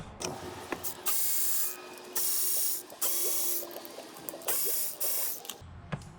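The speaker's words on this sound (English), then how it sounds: "So it had what they call the sewing machine noise." A rapid, steady mechanical ticking from an idling Chevrolet LS7 V8 engine with a coil pack unplugged, a light sewing-machine-like clatter swelling in loudness every second or so.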